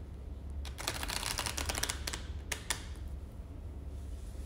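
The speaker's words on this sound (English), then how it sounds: "I don't know why they make these cards so sticky, so it's so hard to shuffle them." Sticky playing cards are shuffled in a run of quick, close riffling clicks and flutters over a soft background hum, with no voice during the shuffle.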